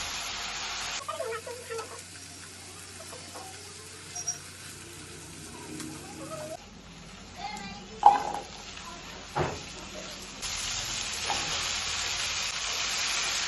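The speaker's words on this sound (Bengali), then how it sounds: "মশলায় কাঁচা মাছের টুকরোগুলো দিয়ে 2 মিনিট এপিঠোপিঠ কষিয়ে আলাদা পাত্রে তুলে রাখুন।" Raw fish pieces fry in a masala of cumin, coriander, turmeric and green chilli, giving a soft, steady sizzle with occasional stirring scrapes and a few louder spits, fairly faint and close.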